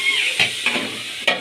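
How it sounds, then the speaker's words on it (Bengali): Vegetables fry briefly in a pan for khichuri, a bright hissing sizzle close by with three quick stirring scrapes spaced through it. "এবার আমি অল্প করে ভেজে নেব সবজিগুলোকে"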